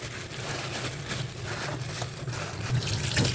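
Tap water runs into a kitchen sink as okra and other vegetables are rinsed, a steady close splashing flow with small surges.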